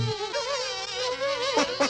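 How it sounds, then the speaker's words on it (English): Insect-like buzzing of cartoon bees drones steadily and fairly close for about two seconds, wavering in pitch with a couple of sharper swells near the end, no talk over it. "These are the wrong sorts of bees."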